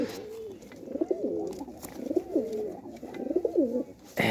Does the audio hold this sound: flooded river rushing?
no